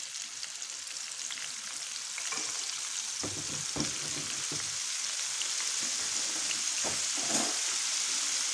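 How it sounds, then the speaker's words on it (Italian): Small shrimp, floured and dropped into hot oil for a mixed seafood fry, sizzle in a steady close crackle. Occasional stirring clicks and pops come through, and no one speaks. "Adesso andiamo a buttare nell'olio tutti i nostri gamberetti."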